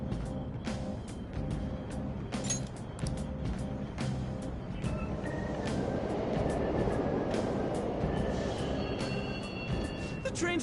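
A train rumbles steadily through a Persona 5 Royal game scene, a continuous low roar with clanks and rattles layered on top, moderately loud throughout.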